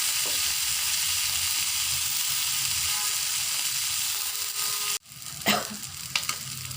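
Hot oil sizzles steadily around frying tilapia, loud and close, then a brief break and a few clattering stirs or turns of the fish as the crackling continues.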